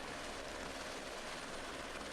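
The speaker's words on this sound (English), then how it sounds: "I've never stood so close to a helicopter when it's taking off," Helicopter lifting off at close range in Nepal, a loud, steady broadband roar of rotor wash and engine filling the whole clip without pause.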